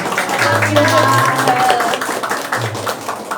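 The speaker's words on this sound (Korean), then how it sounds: "그러면 박수와 함께 대표님 보내드리도록 하겠습니다." An audience at a social entrepreneur training session applauds to send off a company representative, with steady, close, continuous clapping over a low hum and faint voices.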